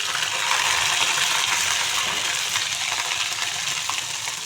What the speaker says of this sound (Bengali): প্রথমেই 5 ফোড়নগুলো দিয়ে দিচ্ছি, আদাগুলো দিয়ে দিচ্ছি, তেজপাতা।